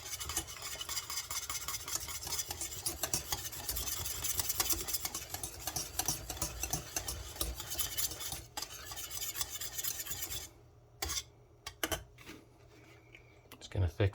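A whisk works continuously through a gluten-free cheese sauce, or bechamel, in a pan, giving rapid scraping strokes for about ten seconds before stopping, followed by a few scattered taps and clatters, with a voice speaking intermittently.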